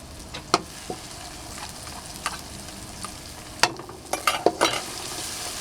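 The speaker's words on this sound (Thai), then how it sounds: "ผัดให้หอมก่อนนะคะ ใช้ไฟอ่อน" Chicken liver and holy basil stir-fried over low heat: a gentle sizzle with irregular spatula scrapes and taps, growing to a quick cluster of clatters toward the end.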